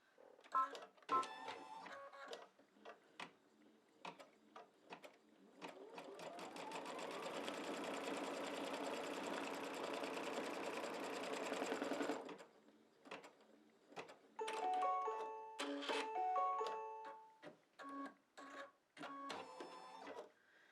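A home embroidery machine stitches a placement line for a pocket on an in-the-hoop mug rug, a steady mechanical whirring run of rapid needle strokes framed by clicks, beeps and handling noises before and after.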